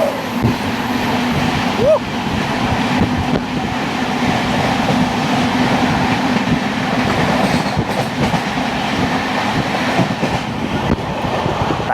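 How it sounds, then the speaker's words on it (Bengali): The 13125 Kolkata Sairang Express rolls into a station, a loud, close, continuous rumble of wheels and carriages with faint clickety-clack and a brief squeal, steady throughout. "সামনে দিয়ে আসছে 13125 কলকাতা সাইরাং এক্সপ্রেস"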